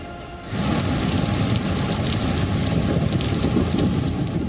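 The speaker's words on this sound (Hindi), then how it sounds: "इन राज्यों में बेहिसाब बारिश हो रही है।" Heavy monsoon rain pouring down in a loud, dense, steady roar that starts suddenly after a brief quieter moment and continues unbroken, close and enveloping.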